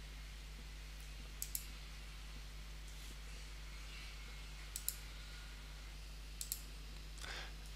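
Computer mouse clicks come in quick pairs and singles, faint and close, spaced over a steady low electrical hum while a 3D model is inspected in Revit.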